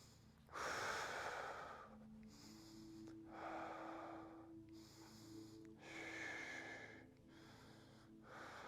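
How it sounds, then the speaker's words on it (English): Heavy, rhythmic breathing during full glute bridge reps in a mobility workout: five or six strong huffing exhales with quieter inhales between, close and loud, with no talk. "You also hear that my breathing cadence is increasing as I'm increasing the reps as well"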